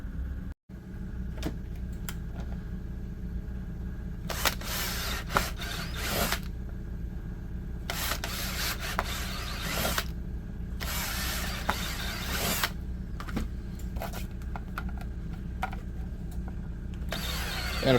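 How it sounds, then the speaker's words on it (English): A power drill whirs in several bursts of a second or two each, drilling holes in holster material, separated by quieter rubbing and handling noises. "Let's drill it."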